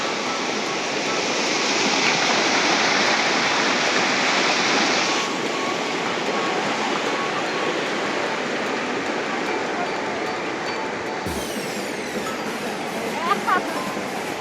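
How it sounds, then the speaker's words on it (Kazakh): Mountain stream water rushing beside a picnic spot in the hills, a steady loud broadband wash throughout that thins a little partway, with a brief knock near the end. "Мына суды қараңдаршы."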